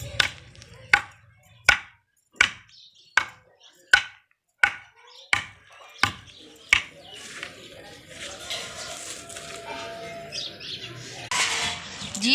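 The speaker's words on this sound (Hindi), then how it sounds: "इन्नी सारी तो मैं बरीक बरीक मिट्टी नूं कुट लिया, कुट के ते इनू बरीक बरीक कर दिता" Dry village soil being pounded into fine powder, about ten sharp, regular thuds at close range, then the beating gives way to a busier rustling, scraping clatter with birds chirping in the background.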